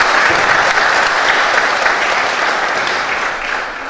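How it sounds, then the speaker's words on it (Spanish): Sustained audience applause welcoming a doctor presenting at a judicial office management conference, a dense even roar of many clapping hands that holds steady and starts to taper near the end. "el doctor Cristian Hernández Alarcón, al cual recibimos con un voto de aplauso"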